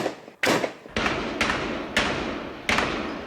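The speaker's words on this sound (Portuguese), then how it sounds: "O som é nítido de armas pesadas como metralhadora e as rajadas eram aterrorizantes" Five heavy, booming heavy machine-gun shots spaced about half a second apart, each with a reverberating tail, heard at a distance at night on Morro do Romão.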